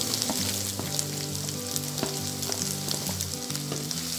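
Garlic, onions, shallots and spice paste fry in oil in a pan, sizzling loudly and steadily while a utensil scrapes and stirs in repeated strokes, close up and without any talking.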